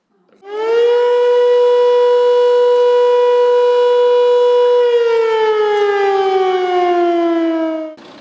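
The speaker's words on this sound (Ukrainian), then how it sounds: "з вежі Теребовлянської ратуші було чути лише звук повітряної тривоги" A single long air raid siren wail from the Terebovlia town hall tower in Ukraine rises, holds a steady loud tone for several seconds, then slowly falls in pitch before cutting off.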